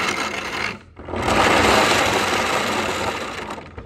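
An electric motor inside a hybrid car's planetary-gear transmission runs in reverse, giving a steady loud whirring hum that cuts out briefly near the start and then resumes.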